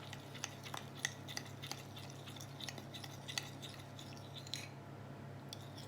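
A spoon stirs a turmeric (haldi) mixture in a bowl, making faint, scattered clinks and scrapes against the sides over a soft, steady background.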